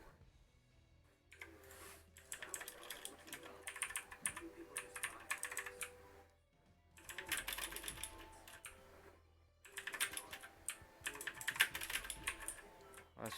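A computer keyboard is typed on in quick bursts of clicky keystrokes while playing Ultimate Mortal Kombat 3, close and fairly quiet, with short pauses between flurries.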